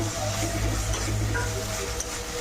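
Chopped vegetables with leftover potato and egg frying in a pan, a steady close sizzle with faint stirring scrapes running throughout, no voices.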